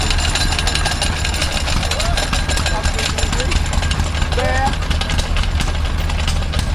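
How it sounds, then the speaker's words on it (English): Close and steady, a stationary engine chugs with a regular low knock at an outdoor rural show in Sussex, while brief voices come through over the running engine. "I do like a good stationary engine."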